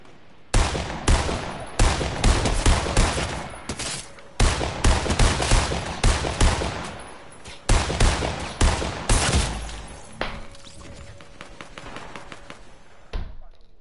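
Fortnite gunfire rattles in dense, loud bursts of rapid shots and heavy thumps, repeating for several seconds before dropping into quieter scattered pops near the end.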